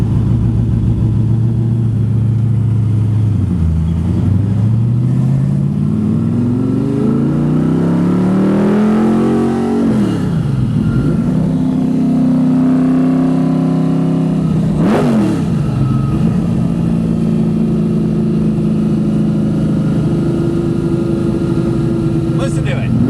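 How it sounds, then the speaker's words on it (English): A Chevrolet Camaro with a 427 small block Chevy V8 and four-speed revs hard, pitch sweeping up and dropping back in repeated pulls, loud and close with steady engine drone throughout. "Your classic small block Chevy with a 4-speed and some gear."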